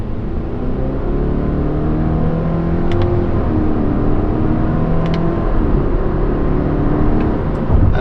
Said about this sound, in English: So I am going to try to accelerate a bit, see how it does.